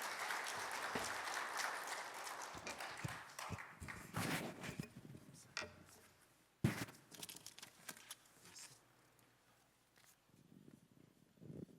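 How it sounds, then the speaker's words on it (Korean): A church congregation at an evening revival meeting applauds in welcome, a dense, loud round of clapping that tapers and thins toward the end, with scattered claps and a few sharper hits. "우리 박수로 환영하도록 하겠습니다."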